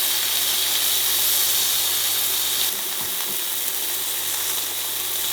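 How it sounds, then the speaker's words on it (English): Steak frying in a pan just after being turned over, giving a steady, loud broadband sizzle and hiss that runs throughout, easing slightly partway through with a few faint stirring sounds. "now I'm going to turn the steak over"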